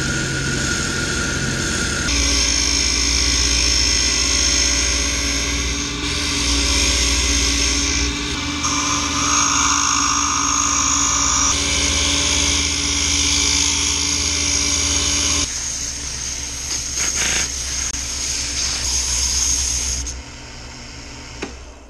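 A rotary tool carves a hard wooden master for a soft plastic squid jig, giving a loud, steady, high-pitched grinding whine that shifts pitch as the bit bites and eases, close up with no talk.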